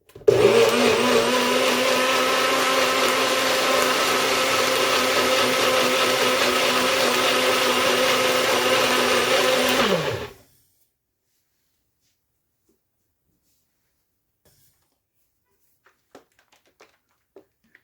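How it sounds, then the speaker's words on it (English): A blender whirring at full speed for about ten seconds, blending a punch of sea moss, okra and flaxseed. It gives a loud steady motor drone, then winds down and stops, followed by near silence with a few faint clicks. "and now I'm blending."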